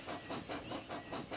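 Toby, a steam tram engine, hisses as he pulls away, with steam chuffing in quick, even rhythmic bursts that stay loud and close throughout.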